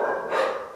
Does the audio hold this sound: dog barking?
yes